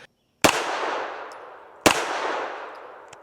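A Retay RXP 22 pistol fires CCI Stinger rounds, two sharp, loud, close shots about a second and a half apart, each followed by a long ringing decay outdoors.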